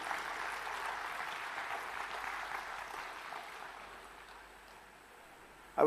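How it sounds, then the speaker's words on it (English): Audience at a spiritual life workshop clapping together, a moderate steady wash of applause that gradually thins and fades, followed by a sudden loud noise at the very end. "A big clap for all of you."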